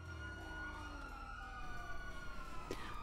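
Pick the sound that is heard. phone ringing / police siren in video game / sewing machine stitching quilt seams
police siren in video game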